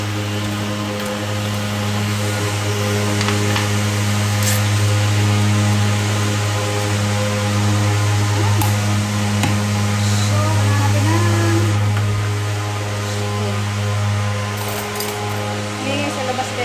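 A loud, steady motorized sprayer drones and hisses outdoors for the whole stretch, a constant engine hum with no breaks, while someone talks over it.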